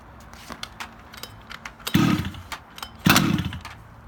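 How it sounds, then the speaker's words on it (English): A Rovan Baja 5b 29cc RC car engine on choke fires in two short, loud popping bursts between scattered clicks and handling noises, with nobody speaking. "When it pops like that, it means you got fuel in the engine."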